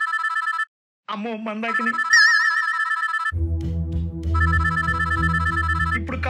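A telephone ringtone trills in repeated electronic bursts, loud and close, with a short gap and a brief speech-like passage, then continuing over a low rumble while a voice speaks.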